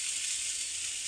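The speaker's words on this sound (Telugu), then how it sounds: "దోశ వేసేటప్పుడు ఆయిల్ తక్కువ తీసుకొని వాటర్ అనేది ఇట్లా స్ప్రే చేయాలి." Water sprayed onto a hot dosa pan gives a brief, even hiss of sizzling, close and fairly soft, with no voices.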